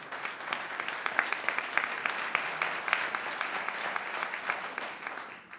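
Sustained applause from an opera audience welcoming a performer onstage, a dense steady patter of many hands clapping throughout, fading slightly at the end.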